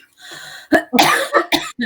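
A few sharp, close coughs come in quick bursts, loud and alone, with a short breathy pause before the run of hacking.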